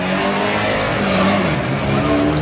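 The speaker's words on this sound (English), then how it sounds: "here's our first camper going down, complete with pop top." A Volkswagen camper van with a pop-top roof, apparently on a non-standard engine, roars loudly and continuously down a drag strip at a Bug Jam event, its engine note climbing steadily close by.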